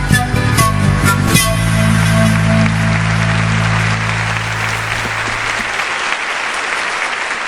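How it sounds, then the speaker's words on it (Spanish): An audience claps along to a sung love song, with steady rhythmic applause over the music and held instrumental tones that fade out after about six seconds. "Ahora sí vamos todos fuerte las palmas."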